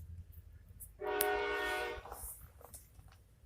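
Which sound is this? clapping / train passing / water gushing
train passing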